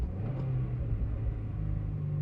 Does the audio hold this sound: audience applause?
no